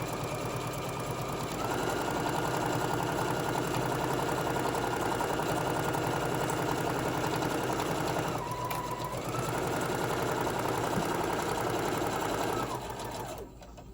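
A sewing machine runs steadily, stitching straight across the bottom of a fabric tote bag. The hum is close and continuous, with one short pause and restart midway, and no one speaks.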